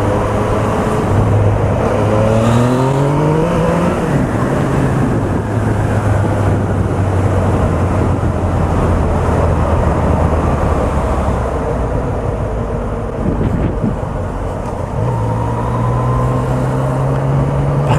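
A Yamaha MT-09 motorcycle is on the move, its engine drone rising and falling as the rider shifts gears. Heavy wind rush on the microphone blankets the ride throughout.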